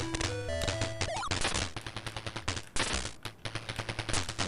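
Electronic video-game gunfire from Commando on the Atari 2600 or Intellivision: rapid repeated bursts of chiptune shots over game music, with a rising tone sweep near the start.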